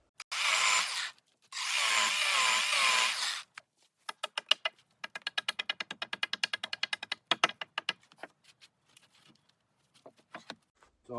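Logs being trimmed for a log cabin bed: two loud sustained bursts of a power tool cutting wood, followed by a long run of rapid rhythmic scraping strokes and scattered knocks, close by.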